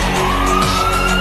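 A 108 emergency ambulance siren gives a brief, steady wailing tone that rises slightly, loud and alone with no talk.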